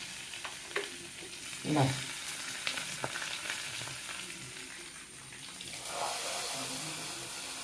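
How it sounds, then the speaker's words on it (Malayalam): Mustard seeds and curry leaves sizzle and crackle in hot oil in a home kitchen, a steady loud frying hiss with scattered pops and a stirring clatter, close up, with a brief word spoken. "ഇതിലേക്ക് ഇതാ കടുകിട്ട് കൊടുത്ത് പിന്നെ രസം കരിവേപ്പിൻ്റെ ഇല ഇട്ട് കൊടുത്ത്"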